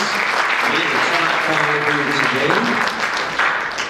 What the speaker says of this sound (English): let's give contestant 10 a round of applause